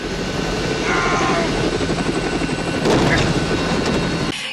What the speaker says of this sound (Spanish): Bruce Willis salta de un helicóptero en movimiento a un avión en movimiento y no se hace nada